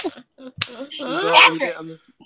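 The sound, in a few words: person imitating a dog barking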